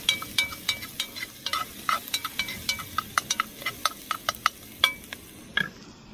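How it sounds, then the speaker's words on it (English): Pre-cut garlic and onion stirred in a camp oven for lamb shanks, giving a quick run of sharp scraping clicks and taps from the utensil over a soft, steady sizzle, close and fairly quiet, with no talking. "Already pre-cut that up, and the onion in the bottom. Give that a bit of a stir."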